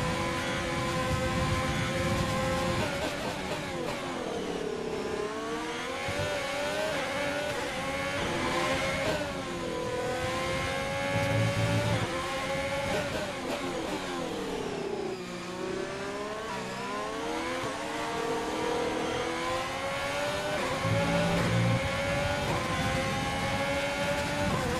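Engine of a Formula 1 car, a modded Alfa Romeo racing in F1 2020, a steady loud howl with pitch rising and falling through gear shifts and braking, continuous across the whole stretch with no talk.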